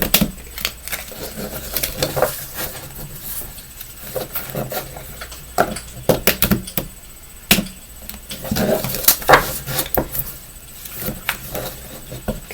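Tarot cards are shuffled in irregular papery riffles and taps, a busy rustle with sharp snaps close up, no talking.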